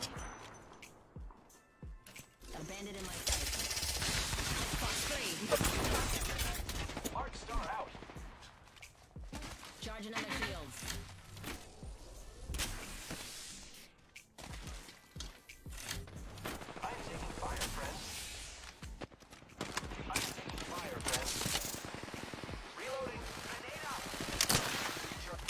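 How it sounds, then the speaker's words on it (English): Repeated bursts of automatic gunfire in the Apex Legends battle royale game, loud and dense in long stretches with brief lulls, mixed with other game effects and a voice talking over the action. "I am taking fire, friends."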